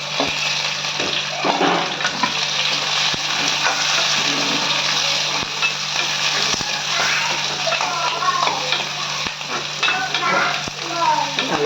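Vadagam, shallots and crushed garlic sautéing in a pan for a black-eyed pea kuzhambu, with a steady close sizzle and intermittent stirring scrapes throughout, no talking.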